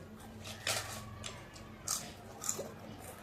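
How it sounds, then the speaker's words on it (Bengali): Crisp crunching bites of papad during a big home meal of rice, potato chokha, chicken and egg curry, with three or four distinct crunches standing out over a low background hum. "এখনো পাঁপড় খাচ্ছে।"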